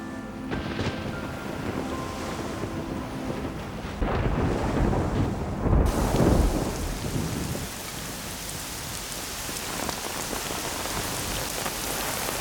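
Heavy rain pours steadily as a thunderstorm breaks at sunset, with a deep roll of thunder swelling through the middle while the downpour continues loud and unbroken.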